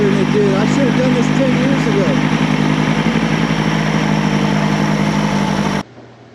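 A 1988 Evinrude six-cylinder outboard motor runs steadily at a loud, close idle, then cuts off abruptly near the end. A voice sounds briefly over the engine noise.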